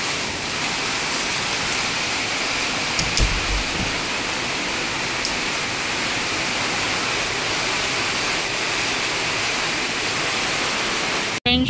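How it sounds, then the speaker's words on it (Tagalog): Heavy typhoon rain pours down over rice paddies during the harvest, a loud and unbroken hiss of downpour that lasts the whole stretch with no voices. "Bumuhos na talaga ang pinakamalakas na ulan"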